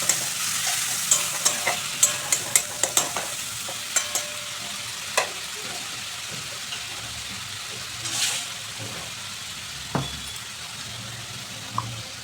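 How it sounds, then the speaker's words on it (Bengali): Poppy seed paste with a splash of water fried and stirred in a pan for an okra dish: a close, steady sizzle broken by repeated sharp scraping and tapping of a spatula, denser early on, no voices. "একটু জল দিয়ে পোস্তটা ভালো করে কষিয়ে নেব।"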